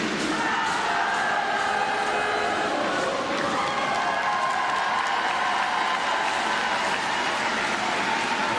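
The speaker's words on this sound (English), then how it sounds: "It's going to be tough to quieten down this crowd before the start of the second half" A Paralympic goalball crowd at the South Paris Arena applauds and cheers in a steady, loud, continuous wash of clapping and voices during the break before the second half.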